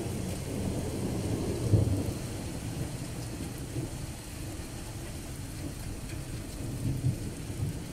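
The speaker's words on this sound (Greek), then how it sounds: "Έχει δυναμώσει και η βροχή." A night thunderstorm over a village in Soca, Romania, with heavy steady rain hissing throughout and low rolling thunder rumbling beneath, including a louder crack partway through; no voices.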